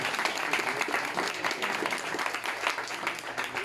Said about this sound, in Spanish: Quisiera, por favor, que lo recibamos con un fuerte aplauso.